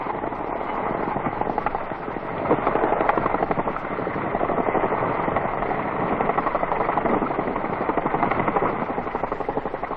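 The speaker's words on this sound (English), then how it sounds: "the relieved unit is flown in Chinook helicopters from Nui Dat direct to HMAS" Chinook helicopters fly in South Vietnam in 1968, their rotors beating in a loud, steady, dense chop that never lets up.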